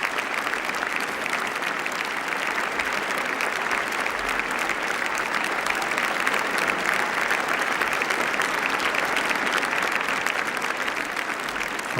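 A large audience applauds at the Princess of Asturias Awards ceremony as the Prince of Asturias enters, a sustained, even roar of many hands clapping that holds steady throughout.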